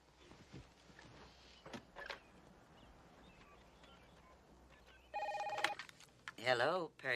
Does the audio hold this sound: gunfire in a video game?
no